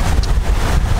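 Strong wind buffets the microphone aboard a sailboat under three sails in about 18 knots on the Mediterranean, a loud, gusty roar filling the whole second.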